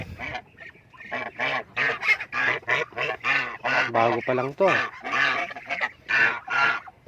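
Geese honking close by, with a series of loud repeated calls in quick succession while someone speaks over them.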